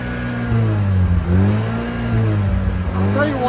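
A Mazda RX-8 rotary engine that cranks but won't start, here running and revving up and down in a steady, loud, close drone with rising and falling pitch.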